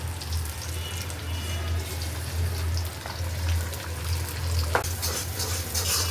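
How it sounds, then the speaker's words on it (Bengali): Garlic paste frying in mustard oil in a pan over a lowered flame, a steady close sizzle with a low hum underneath, a few soft clinks and one sharp knock near the end; no talking. "রসুনটা একটু ভাজা ভাজা করতে দিছি সরষের তেলের ভিতরে"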